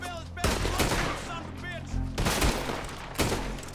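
Gunfire in Red Dead Redemption 2, three loud close shots with echoing tails spread across a few seconds, with faint game ambience in between.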